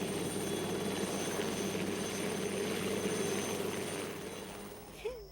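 A helicopter taking off in a jungle drones loudly with a steady rotor thrum, then the noise eases and fades toward the end.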